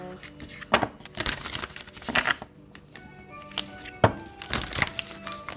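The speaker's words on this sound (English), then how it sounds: "let's give the deck a little bit of a shuffle here" An oracle card deck is shuffled by hand in a handful of quick, papery riffling bursts with short pauses between, close and fairly quiet.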